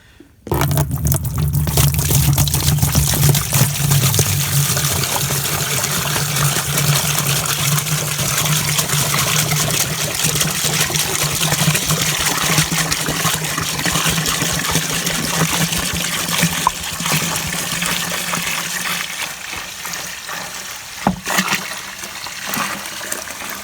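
Collected maple sap pours into a container, a steady splashing, gushing stream up close that slowly thins to trickles and dribbles toward the end, with no talk.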